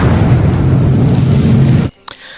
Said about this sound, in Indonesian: menyalakan korek api yang akhirnya meledak